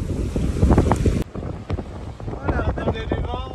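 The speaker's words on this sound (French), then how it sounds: "on attendait du vent, on a force 5" Strong force 5 wind buffets a sailboat on a beam reach with the genoa half furled off Euboea, Greece: heavy wind roar and rushing water, then a calmer stretch with creaks and faint tonal rigging or voice-like sounds.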